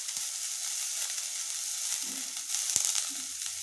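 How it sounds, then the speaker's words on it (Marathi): Onion fries in a little oil in a pan, a steady soft sizzle and hiss with a few quiet stirring knocks near the end, no one speaking. "इथे मी सुरुवातीला कांदा भाजून घेत आहे।"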